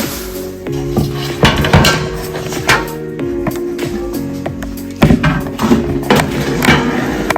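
A metal frying pan is handled on a stovetop before cooking bacon, giving loud, close clanks, scrapes and ringing knocks at an irregular rhythm, with a heavier bang midway and no talk.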